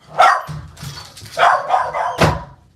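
A dog barks several times close by, loud, sharp barks in an uneven sequence with short gaps, alone without talk.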